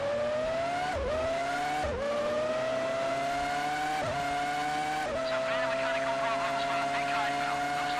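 In the Formula One 2003 video game, a race car's engine whines steadily at high pitch, with brief dips at roughly one-second intervals where it brakes and shifts down, then tires scrub near the end.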